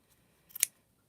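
Scissors snip through the selvage edge of quilting fabric in one quick, quiet double cut, close and otherwise near silent.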